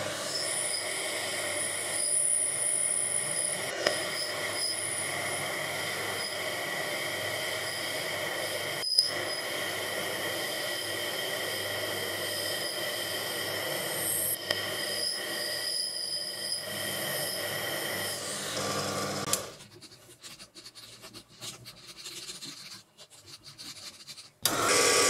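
A metal lathe running too fast while boring steel with a high-speed steel drill, a steady loud grinding whine with faint squealing that continues for about twenty seconds before dropping to quieter scraping and rattling.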